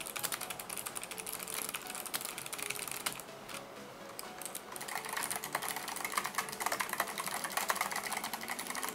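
Rapid, continuous clacking of Kailh Box White switches on a mechanical keyboard, a dense typing rhythm with a light clicky feel that briefly thins out midway before picking up again.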